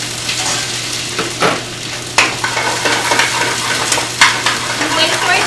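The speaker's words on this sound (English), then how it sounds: "A teaspoon garlic and ginger is being added, and you let that simmer for a bit." Garlic, ginger and onions sizzle in olive oil in a pan, a steady close frying hiss broken by occasional scrapes and clinks of a utensil against the pan and a constant low hum.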